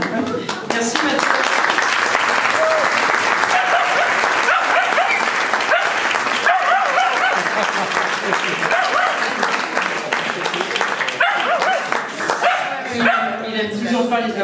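Sustained audience applause filling the room at a round-table discussion while a dog barks and yips repeatedly over it, loud and close, with voices briefly near the end.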